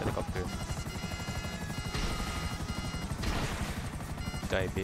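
A helicopter in the GTA Online video game chops steadily through the whole stretch, its rhythmic rotor pulse mixed with game sound effects and talking players.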